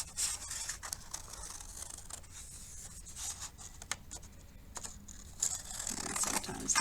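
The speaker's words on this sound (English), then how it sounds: "then you'll start cutting with the scissors" Scissors snip through paper for an origami ornament, a close, quiet run of small crisp cuts and rustles with short pauses, steadier near the end.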